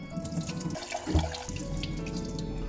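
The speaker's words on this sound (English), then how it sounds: "Wash until the water runs clear" Rice being rinsed in running water until the water runs clear, a steady tap stream splashing into a sink with a brief louder splash near the middle, close and continuous.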